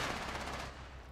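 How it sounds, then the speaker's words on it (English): Rainbow Six Siege gunfire on the Hereford Base map rattles as a dense, loud burst of rapid shots with no talk, fading slightly toward the end. "Mano, shoot at that mark on the floor."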